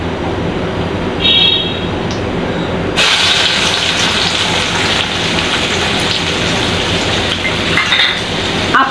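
Onion tipped into hot oil already crackling with cumin and mustard seeds in a kadhai, setting off a loud, steady sizzle that swells abruptly a few seconds in and hisses continuously, close up and with no talking.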